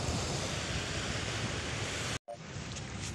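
Sea waves on a sandy beach shore, a constant loud rushing wash with wind buffeting the microphone, cut by a brief dropout before the surf continues slightly softer.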